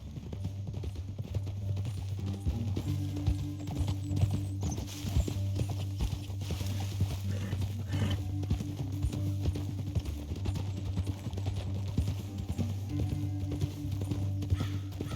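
Steady clip-clop of horse hooves trotting at a brisk, even rhythm, close and continuous, with a faint whinny at times, in the video game Red Dead Redemption 2.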